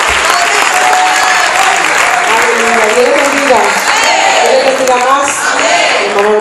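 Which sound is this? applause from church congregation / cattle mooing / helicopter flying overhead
applause from church congregation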